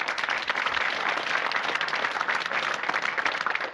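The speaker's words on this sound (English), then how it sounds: "A round of applause for Raymond Pearson, please" Studio audience applauding on a 1980s British TV quiz show as a sixth-form contestant from Kidderminster is introduced; steady, dense clapping fills the whole stretch at an even level with no pauses.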